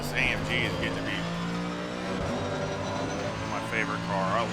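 An AMG race car engine in the racing game Assetto Corsa Competizione drones steadily with a strong tonal hum and a brief dip in pitch partway through, as a voice talks over it.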